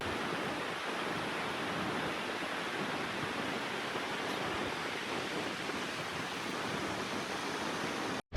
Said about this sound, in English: Next was Fossen, one of Norway's most famous waterfalls.